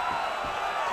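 Arena crowd at an MMA fight cheering after round one: a steady, continuous roar of many voices for about a second.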